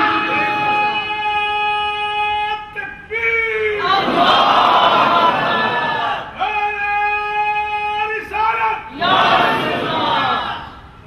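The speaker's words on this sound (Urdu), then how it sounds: "آپ کے نعرے کی آواز بڑی بلند ہے، بڑی مدم ہے." A loud crowd chants slogans in unison at a mosque gathering in Hong Kong, with long sustained shouted phrases alternating with a single leading voice, close and forceful.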